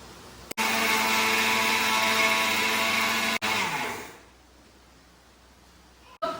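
A kitchen mixer grinder whirs loudly as it grinds semolina and sugar for a cake. The motor runs steadily for about three and a half seconds, stops briefly, then restarts and winds down to near silence.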